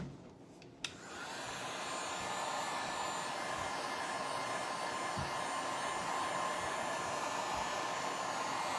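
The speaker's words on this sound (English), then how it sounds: "These heat tools are great because to speed up the drying time, you don't have to wait overnight for things to dry." A heat tool blows steadily to dry a coat of paint, a loud continuous rushing whine that starts with a click about a second in and holds unbroken to the end, with no talking.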